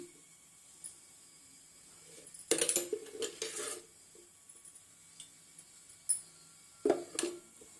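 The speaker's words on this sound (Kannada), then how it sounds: "ಈಗ ಕುಕ್ಕರ್ಗೆ ಎಣ್ಣೆ ಹಾಕೊತಾ ಇದ್ದೀನಿ" Oil is poured into a pressure cooker in a home kitchen before cooking mutton kurma, giving a short sizzling hiss and metallic clinks of pot and utensil, with quiet pauses between bursts.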